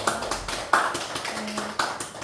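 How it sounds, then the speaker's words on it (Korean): Church congregation clapping in support of their pastor during a Sunday service: a short, fairly soft and uneven patter of hand claps with a few sharper claps standing out. "우리 목사님 힘내시라고 박수 한번 쳐줄게요"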